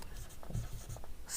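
Pen or chalk writing by hand during a Class 8 maths lesson on mensuration, a run of short scratchy strokes in an irregular rhythm, close and fairly quiet, with no talk over it.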